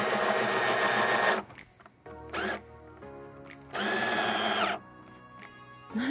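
A power drill whirs in loud bursts, revving up and stopping several times with short pauses between runs, close by.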